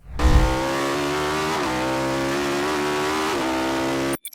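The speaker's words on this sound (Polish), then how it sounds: "W tym przypadku silnik w Atomie kręcił się do 10600 obrotów na minutę." Ariel Atom powered by a high-revving Suzuki motorcycle engine, screaming at very high rpm with a sustained, sharp multi-harmonic wail that dips briefly mid-run, loud and close, cutting off abruptly at the end.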